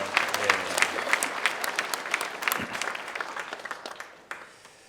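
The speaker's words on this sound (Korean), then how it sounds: "박수 한번 쳐드리겠습니다" A church congregation at a university chapel service claps in thanks for the choir, a burst of individual claps that thins out and fades toward the end.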